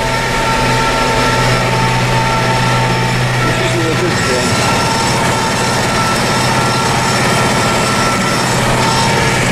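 Massey Ferguson tractor running with a DM205 demo mower, its engine a loud, continuous droning hum close by with a faulty speedometer, shifting in tone partway through as it drives forward, while someone talks briefly over it.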